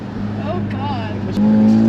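A Ford Mustang EcoBoost with its muffler deleted idles at low RPM, a loud, close, steady drone that grows fuller and louder near the end, with a person talking over it.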